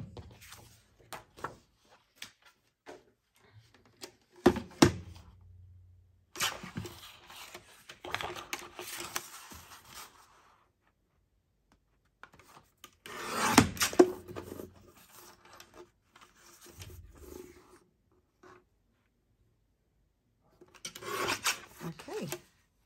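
Paper is cut and trimmed by hand for a faux front envelope, with intermittent close rasping and scissor-like rubbing strokes in separate bursts, broken by quiet pauses.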